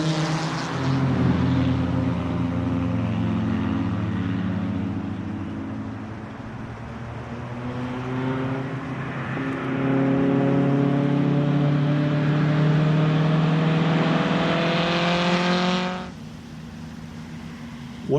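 Datsun cars driving and accelerating, a steady engine drone with rising and falling harmonics as revs climb, loud and close throughout before dropping off sharply near the end.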